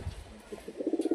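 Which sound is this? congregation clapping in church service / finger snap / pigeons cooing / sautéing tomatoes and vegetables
pigeons cooing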